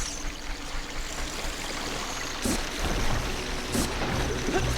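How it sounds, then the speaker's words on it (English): Flowing river water in Zelda Ocarina of Time rushes in a steady wash while the character wades through, with a few brief splashy surges over the constant stream. "As a child, Link, this water was so terrifying, it would just sweep you off your feet. And now we can just wade through it."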